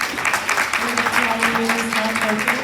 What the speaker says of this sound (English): Can we give her a round of applause as well, please?